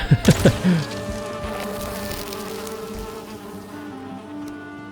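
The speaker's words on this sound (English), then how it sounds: "More bees?" Bees buzzing in Valheim, a steady insect drone sustained throughout after a few short louder bursts at the start, with no voices.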